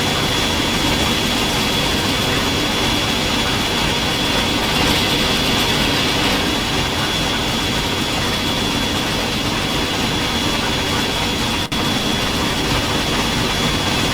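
Simulated Western Pacific 4-6-6-4 M-100 steam locomotive from Trainz 2019 runs with a dense, constant roaring rush and hiss, loud and steady, with one sharp click near the end.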